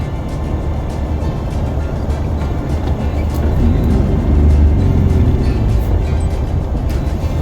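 A car rolling slowly into a mall parking spot, its steady engine rumble and road noise filling the scene, swelling slightly toward the middle before holding level.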